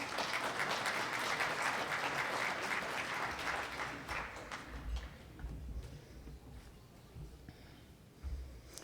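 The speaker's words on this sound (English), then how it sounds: "please join me with a round of applause in honor of Rick and all of our past presidents" Audience applause at an awards luncheon, a loud, dense round of clapping that swells at first, then thins and fades over several seconds.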